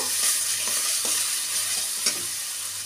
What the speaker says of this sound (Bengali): এবার আদা রসুনটা দিয়েও ভালো করে কষিয়ে নেব।